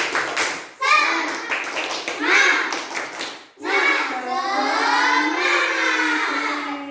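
Children at a classroom activity clap hands in a rhythmic chant pattern, a spirited group clap under their own voices, loud and close, broken by a short pause before a sustained burst.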